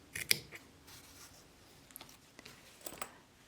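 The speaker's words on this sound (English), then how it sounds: "clip off the edge of the binding." Sharp scissors snip off the edge of fabric binding on a sewn cosmetic bag, giving a crisp close cut near the start and then a few fainter scattered snips and rustles.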